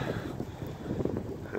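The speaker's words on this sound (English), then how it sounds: "The wind is just howling." Cold winter wind howls and buffets the microphone outdoors at a gas stop, a rough, gusty roar rising and falling steadily with no other sounds.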